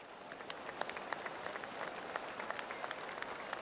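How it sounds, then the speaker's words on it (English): Spectators at a golf course in PGA Tour 2K23 give a light, steady round of applause, with many overlapping claps sounding soft and somewhat distant throughout. "Good to see the fans still clapping."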